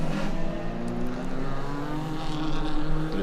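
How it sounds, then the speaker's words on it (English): Race cars at the ICCR 2024 circuit racing meeting leave the pit lane, their engines droning and revving at a moderate distance, a steady motor roar that rises and falls over about three seconds. "all these different cars as they head out the pit lane."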